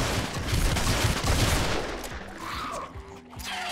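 A shotgun fires in the video game Fortnite, a dense burst of rapid overlapping blasts, loud and close, fading into quieter game ambience.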